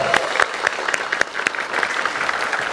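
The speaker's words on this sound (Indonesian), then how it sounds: "kita beri tepuk tangan yang meriah untuk Farhad Abbas." A studio audience on an Indonesian talk-show podcast applauds a guest, a dense burst of close, loud clapping with a few sharper individual claps, sustained throughout.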